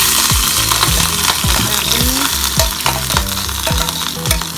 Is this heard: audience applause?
no